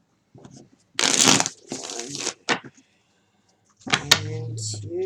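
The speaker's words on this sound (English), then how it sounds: "2 more shuffles" Tarot cards are shuffled in a few quick riffling bursts, close and crisp, separated by short pauses, ending in a tonal hum.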